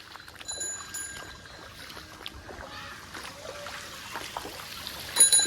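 Water flows along a flooded road in a steady trickling, splashing wash, with a few louder surges and faint background activity, and no clear speech.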